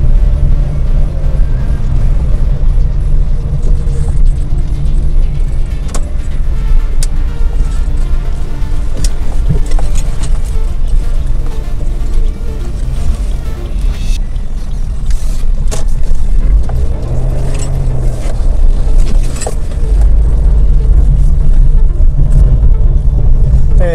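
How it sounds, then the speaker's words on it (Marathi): Highway traffic crawls in a queue behind a slow trailer hauling steel rods, with a loud, steady engine rumble and road noise throughout, and vehicles passing close by. "आता पूर्ण पुढे मोठं एक ट्रेलर चालू आहे, सळ्यांचा ट्रेलर जातोय."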